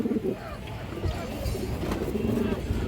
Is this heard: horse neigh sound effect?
no